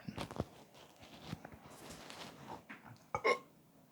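A short, close burp near the end, following a few scattered soft clicks and gulping noises in an otherwise quiet room.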